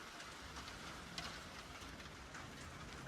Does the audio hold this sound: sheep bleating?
no